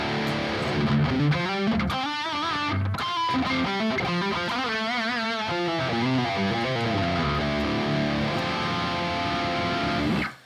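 An electric guitar runs through the default distortion preset of the Archetype Nolly amp plugin, playing chugging riffs and sustained chords with a mid-gain, moderately saturated tone that continues steadily before cutting off at the end.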